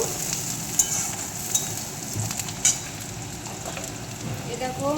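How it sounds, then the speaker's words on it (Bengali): Sliced onions and green chillies fry in oil with panch phoron and bay leaves, a steady close sizzle broken by a few light clinks from stirring. "এরপর পেঁয়াজ দিয়ে দেব কাঁচা লঙ্কা পেঁয়াজটা ভালোভাবে ভেজে দেখো"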